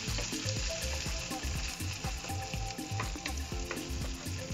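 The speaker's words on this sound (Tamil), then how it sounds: "இப்போ நம்ம வந்து ஆனியன் போட்டுடலாம்" A large cut onion fries in oil with cumin, making a dense, steady sizzle with frequent low knocks and scrapes from stirring.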